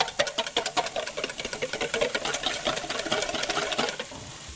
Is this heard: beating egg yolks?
yes